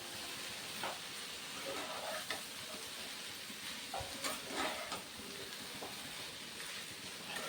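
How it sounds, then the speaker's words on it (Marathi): Cauliflower being stirred into an egg stir-fry in a pan, a steady low sizzle with a few soft scraping stirs, fairly faint and without talk. "फ्लावर टाकून मस्त मिक्स करून घेते"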